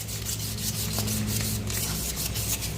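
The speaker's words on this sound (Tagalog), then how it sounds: "lihain natin konti itong axle para bawas kalawang" Sandpaper rubs steadily over a rusty center stand axle from a Yamaha NMAX scooter, a continuous close scratchy rasp with quick back-and-forth strokes and no talking.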